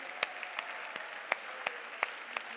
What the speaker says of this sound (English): A big round of applause for all of you for all that you do.